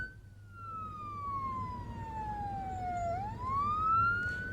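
Wailing emergency siren from a fire engine responding to a burning passenger bus crash near Medina, its pitch sweeping down then rising again, loud and continuous over road rumble, no talk.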